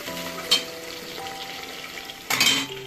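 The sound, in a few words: ginger garlic paste frying with onions in pan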